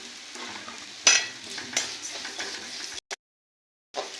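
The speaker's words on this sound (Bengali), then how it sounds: "সাদা তেল দিয়ে আমি মুগ ডালগুলোকে ভেজে নেব।" Moong dal fries in white cooking oil as it is stirred in a pan, a close sizzling hiss with spoon knocks and scrapes, briefly cutting to silence before the frying returns.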